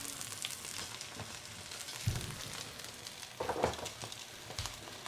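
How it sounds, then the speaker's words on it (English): Roast soy sauce chicken sizzles quietly in its pan, a soft, continuous crackle and hiss with a few brief louder pops and spits, heard close with no voices. "I hear the sizzling of the chicken"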